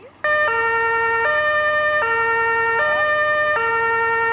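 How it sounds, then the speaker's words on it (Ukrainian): A loud electronic fire engine siren of the village fire service in Shabo, Ukraine, cycles steadily between two tones, wailing continuously and close, with no voices. "нехай спецсигнал пожежної машини лунатиме якомога рідше"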